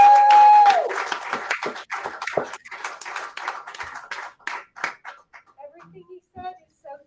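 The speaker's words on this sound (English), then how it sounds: "Let's hear a huge round of applause for Debbie Audrey." Applause from an audience at a school district board meeting, dense clapping at first that thins into scattered claps, with a few voices and a brief whistle-like tone near the start.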